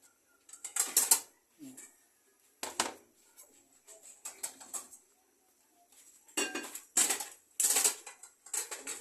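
Plates and dishes clink and clatter in several short bursts, close by, separated by brief quiet gaps.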